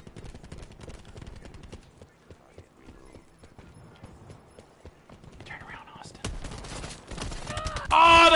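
Gunfire in Black Ops 4 Blackout: rapid bursts of shots crackle behind a player under fire, dense clattering volleys with heavier, louder reports near the end, mixed with faint talk and movement.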